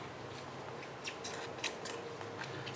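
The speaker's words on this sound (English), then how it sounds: "And these are just regular scissors." Regular scissors snip through a gasket for a pressure pot or vacuum chamber, with faint, irregular crisp cuts and small clicks over quiet room noise.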